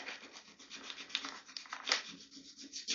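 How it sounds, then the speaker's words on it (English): A plastic part being sanded by hand: quick back-and-forth rubbing strokes in a steady, slightly uneven rhythm, close up and moderately loud, with no talking. "I gotta get this sanded a little bit more."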